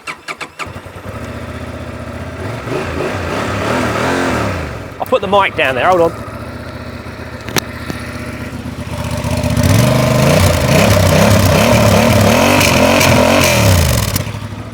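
A Honda Transalp motorcycle engine starts and idles, then revs up loudly with rising and falling pitch, while someone speaks briefly near the start.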